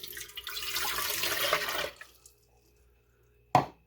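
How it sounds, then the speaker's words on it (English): Water pours from a measuring cup into the pan of a Cuisinart CBK-110 bread machine, a steady splashing stream for about two seconds that stops, followed by quiet and a single sharp knock. "So we're going to put the water in there."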